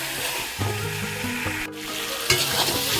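Chicken frying in a pan, Bengali style, stirred with a utensil, giving a steady close sizzle broken by a few scraping stir strokes.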